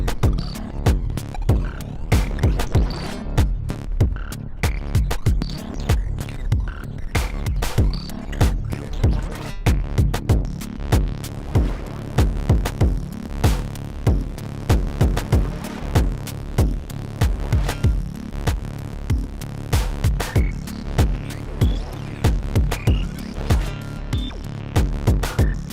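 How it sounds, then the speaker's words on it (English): A pulsing industrial synth pattern runs through a hall-mode reverb and delay with the feedback pushed very high, giving dense repeating rhythmic hits over a thick droning low-end wash, with no talking. "I'm going to turn the feedback on the reverb and the delay up really high."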